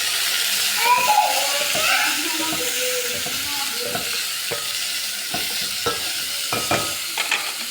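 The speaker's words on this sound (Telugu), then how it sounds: "వేగిన తర్వాత టమాటా అయితే నేను వేసుకుంటున్నాను." Tomato pieces frying in a pan with garlic paste, a continuous sizzle and hiss close up, broken by repeated scraping clicks of a spoon stirring.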